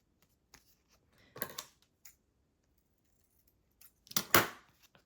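Scissors snip paper in two short bursts while trimming pieces for a pink-themed junk journal page, close and crisp against near silence.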